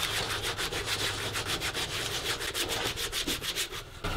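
Sandpaper rubs back and forth over a wooden log base in quick, steady strokes, a rhythmic close-up scratching that runs continuously and stops near the end.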